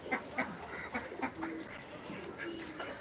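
Ducks on a farm quack repeatedly in short bursts at moderate distance, with a few longer honking calls mixed in over soft background noise.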